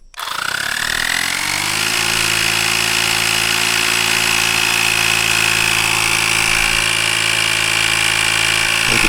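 An Auxito portable air compressor runs continuously while inflating a tire, a loud, steady mechanical drone with a high whine that settles into an even hum after starting up.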